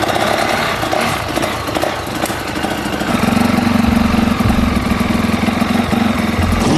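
A turbocharged motorcycle engine runs up close, a steady mechanical drone that settles into an even, louder idle partway through, with no voices.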